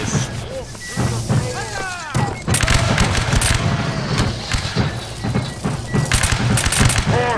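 Musket volleys from reenactors staging the Battle of Camden, loud sharp reports cracking out in rough bursts across an open field, with shouted commands and voices in between.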